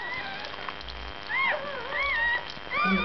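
Faint high-pitched whimpers and squeaks from newborn puppies come in a few short bursts over a quiet background.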